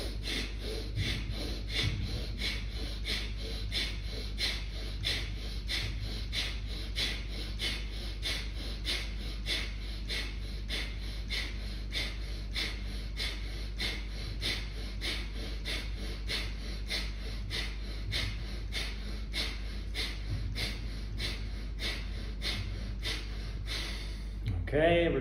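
Rapid, rhythmic breathing from a group breathing exercise at a live mastermind event, steady quick inhale-exhale pulses continuing throughout at moderate level, with occasional voice under a constant low hum.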